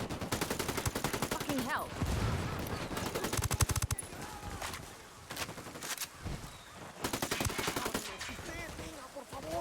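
Rapid automatic gunfire rattles in repeated bursts during a firefight against enemies in Ghost Recon Wildlands, loud and close, with someone shouting over the shooting.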